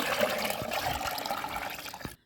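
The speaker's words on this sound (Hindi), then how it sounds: "सबसे पहले पानी डाल लें।" Water poured into a container holding about five litres while preparing a homemade growth-promoter mix for flower seeds, a steady splashing gush that runs nearly unbroken for two seconds and then stops abruptly.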